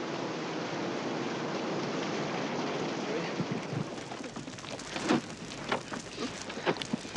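Steady rain falling in a Vietnam War jungle setting, a continuous dense hiss that softens midway as scattered voices and movement sounds emerge.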